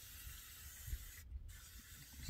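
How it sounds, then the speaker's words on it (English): A handheld spray bottle gets pumped up inside a minivan camper, with a steady faint hiss and a few soft mechanical pump thumps at low level. "First, you have to pump it up a little bit."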